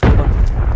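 A single loud, heavy grenade explosion in the video game Arena Breakout, a boom with a deep low-end rumble that decays quickly, close and forceful.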